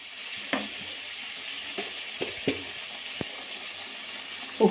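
Steady sizzle of a frying pan of egg masala with a few sharp splashy bursts as water goes in, moderately close and without talk.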